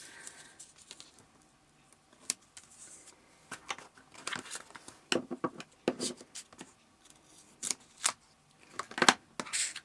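Scissors snip and a double-sided foam tape strip is peeled and pressed onto a floral birthday card, giving a string of short, close crinkling and cutting sounds with quiet pauses between them.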